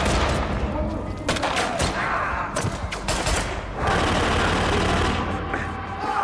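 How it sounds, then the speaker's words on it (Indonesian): Gunfire in a film gunfight between a lone fighter and a general's military troops, dense bursts and rapid shots crackling almost nonstop over a loud action soundtrack. "disinilah terjadi baku tembak antara Feng dan pasukan militer Jenderal Yosef"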